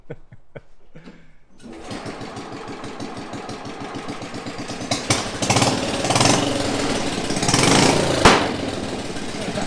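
Homemade tractor motorcycle engine starting up after a few short clicks, then running steadily with a rapid mechanical chatter, rising in loudness as throttle is added, close to the microphone.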